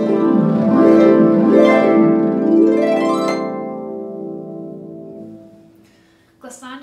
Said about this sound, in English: we're gliding our fingers all over the strings. And that produces that beautiful glissando.